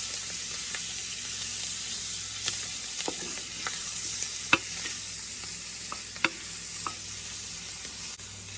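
Butter melting in a pan on a stove, giving a soft, steady sizzle with a few sharp pops and clicks scattered through, close but quiet, with no one talking.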